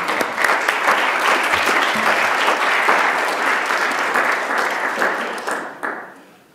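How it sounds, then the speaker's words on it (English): Audience applause fills a conference hall as a moderator walks up for a clemency and pardons panel, steady and dense clapping for about six seconds before tapering off at the end. "we'll give him a round of applause as he comes up here."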